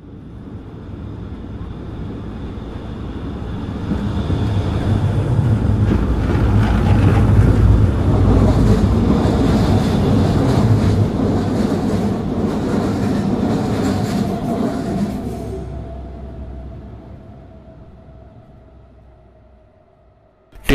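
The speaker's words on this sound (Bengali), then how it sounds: "ট্রেনটা কিছুটা সময় অপেক্ষা করে একটা সময় স্টেশন ত্যাগ করলো।" A train pulls out of a station, its rumble and clickety-clack of wagons swelling to a loud peak, then fading steadily into the distance over about twenty seconds, with no talking.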